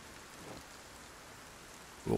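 Steady rain falling in the video game Project Zomboid, a soft continuous hiss of light rainfall with a short louder thump near the end.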